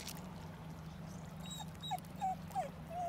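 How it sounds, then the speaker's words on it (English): A small dog whimpers and whines in several short, high cries toward the end, fairly faint and a little distant over a steady low background hum. "Can you hear that? That little Loki crying"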